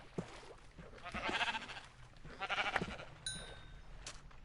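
A sheep in Minecraft gives two drawn-out bleats, fairly close and soft, with a short pause between them and a faint chime near the end.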